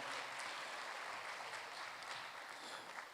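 A crowd applauds at the City of Smyrna Mayor's Education Awards, with steady, sustained clapping that fills the room at an even level throughout.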